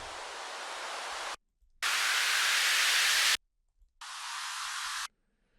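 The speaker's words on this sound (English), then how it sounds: "we still have a bunch of noise transition effects and uplifters in the effects section" Three bursts of bright hissing white noise, a transition effect in an Afro house track, each starting and stopping abruptly with short silences between, steady and loud.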